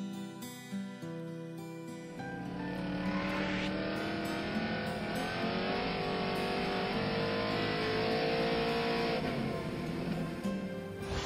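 A car drives fast, its engine roaring in loudly after a quiet start and holding a steady, strained revving note with shifting pitch before easing slightly at the end.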